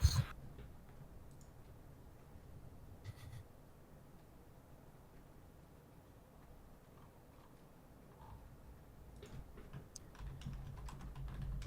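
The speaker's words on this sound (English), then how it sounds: "With what, my typing noises?" Quiet clicking of computer keyboard keys, irregular bursts of typing at moderate distance, low in level and alone without talk.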